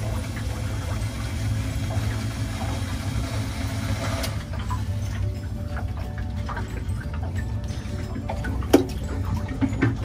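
A Seaflo dry bilge pump system running in a boat's bilge, giving a steady low mechanical hum with a faint ticking rhythm, constant and close throughout with a brief sharper knock near the end.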